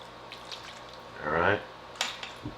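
A cup of water poured into a pot of tomato-based meal prep with maple syrup, a short gurgling splash lasting about half a second, followed by light clinks of utensils against cookware.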